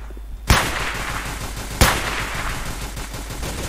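Gunfire in the shooting game Combat Reloaded 2 comes as two sharp, loud shots spaced more than a second apart, each leaving a long noisy tail, with no talking.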